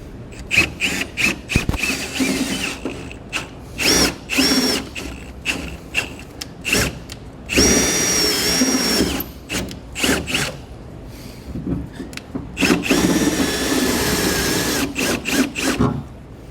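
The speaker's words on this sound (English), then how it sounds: "I'm going to use a step bit because if the hole's not quite centered, the step bit is going to grab" Bursts of harsh, grinding drilling as a step bit bores through steel plate come in repeated stretches with short pauses between them, loud and close, with no talking.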